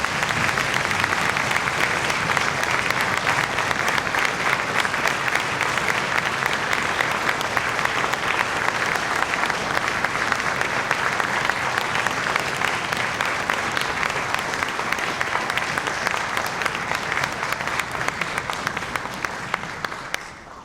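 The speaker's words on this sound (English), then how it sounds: "Seniors, please stand and give them a big round of applause." A high school orchestra concert audience applauds the graduating seniors with sustained, dense clapping that fills the hall at an even loudness throughout, tapering slightly at the very end.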